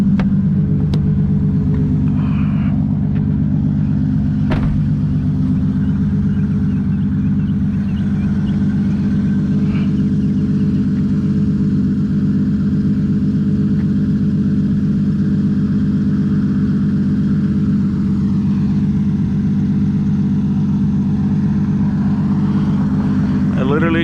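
Toyota Supra MK4 engine droning at a steady, loud cruise, a constant low rumble with road noise filling the cabin and no change in pace throughout.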